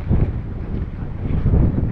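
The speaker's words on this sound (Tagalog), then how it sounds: "malakas ang hangin ngayon" Strong gusts buffet the microphone at Mapol Nature's Camp, a campsite in Sta. Maria, Laguna, giving a loud, low rumbling roar that swells and eases over a couple of seconds, with no talking.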